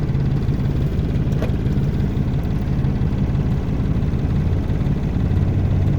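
Steady low rumble of road noise heard from inside a car travelling on GT Road, a constant engine and tyre drone that fills the whole stretch with no talk over it.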